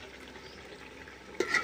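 Chicken coated with chicken masala and chopped coriander leaves frying in a pan with potatoes, a low steady sizzle and faint scraping, with a louder clatter of stirring near the end.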